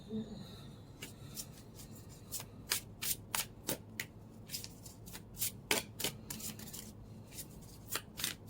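Tarot cards being shuffled and drawn from the deck, a steady run of crisp, papery riffles and snaps close by, with soft sliding and handling noises between the sharper card strikes.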